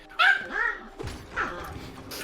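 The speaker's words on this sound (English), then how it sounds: "Little dog." A small dog gives a couple of short, high yipping barks close by, with a faint rumble and stray knocks between them and nothing else much going on.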